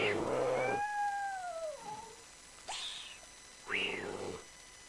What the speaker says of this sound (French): C'est les chats qui se battent